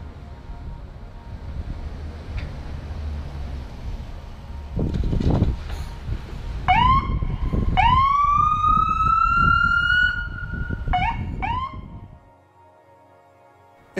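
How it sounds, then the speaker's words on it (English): An ambulance siren gives a few short rising whoops, then a long sustained wail and two more quick chirps, loud over steady road and engine rumble before cutting off to near quiet. "Sometimes they turn on the lights and sirens to let other drivers know they are around."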